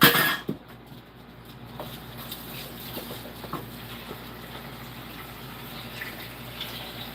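A tap runs water into a sink, a steady soft splashing stream with a few small clunks and knocks.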